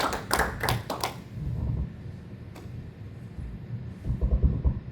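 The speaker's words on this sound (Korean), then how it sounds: "우리 박수 한번 보내드렸으면 좋겠습니다" Scattered clapping from a church congregation during a sermon, a few sharp close claps at the start, then low murmuring and shuffling with faint hand sounds, fairly quiet overall.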